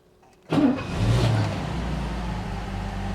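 A 1969 Mercedes 280SE engine cranks and fires after a brief quiet moment, then catches and settles into a loud, steady idle close by.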